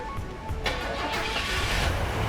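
A Buick Grand National engine cranks and catches, then settles into a steady running rumble close by.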